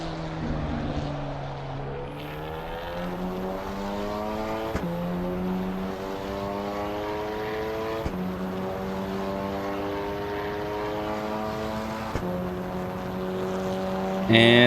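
Race car engine in the Assetto Corsa Evo game, driven with a Fanatec CSL DD steering wheel, with a thin, wheezy tone that rises steadily through the gears in clear upshift steps and runs loud and continuous with no talking.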